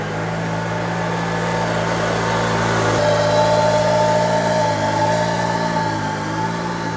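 A Can-Am Maverick R side-by-side engine runs steadily close by, a loud continuous idle with a faint tonal whine rising in pitch partway through, and nobody speaks.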